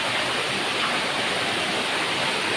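A waterfall at Barangay Bucal gives a dense, steady rushing roar of falling water, even and unbroken for the whole stretch, with no voices.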